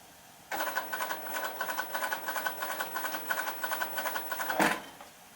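A sewing machine stitches a chair seat in a fast, steady rhythmic chatter lasting several seconds, close and fairly loud, then stops abruptly.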